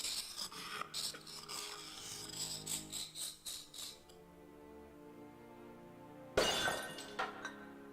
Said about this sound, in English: I smashed the tall urn into tiny pieces, and inside was the golden sword.